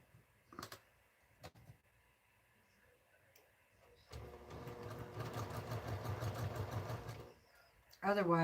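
Sewing machine stitching small quilt strips runs steadily for about three seconds after a quiet stretch with a few clicks, followed by a voice speaking.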